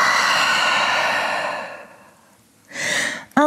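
Long, deep exhale during a vinyasa yoga session in downward dog, a soft airy breath that fades away, followed by a short second breath and a brief voice at the very end.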